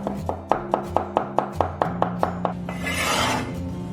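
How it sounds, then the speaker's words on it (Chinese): A knife dices scallion whites into small bits on a board, a fast, even run of about ten close, crisp taps, followed by a brief scraping rustle as the pieces are gathered. "准备2根葱白，切小粒。"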